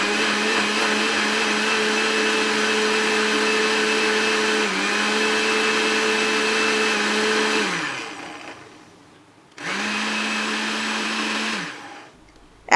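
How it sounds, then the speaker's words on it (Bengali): A kitchen blender whirs steadily as it blends banana with cold milk for sharbat, its loud motor whine dipping briefly before cutting out, then starting again for a second short burst that ends. "এবং ভালো করে ব্লেন্ড করে নেব"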